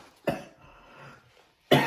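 Two sharp coughs brought on by spicy hot sauce catching the back of the throat during a hot wing tasting, spaced about a second and a half apart with a faint throaty sound between.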